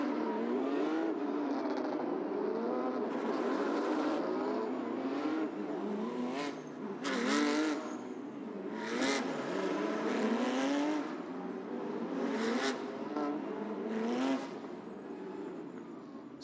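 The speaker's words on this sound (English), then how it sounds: "So the yellow flag's waving as the cars come onto the grid." Porsche Carrera Cup race cars roll onto the grid at a race circuit, several engines droning and revving together, nearby and loud, with repeated rising throttle blips and cars passing.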